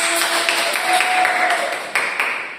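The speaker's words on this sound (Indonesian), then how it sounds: "Tepuk tangan dulu." Third-grade schoolchildren clap together in a classroom during a science lesson, a bright, somewhat scattered burst of hands with a few sharper claps standing out, and faint voices mixed beneath.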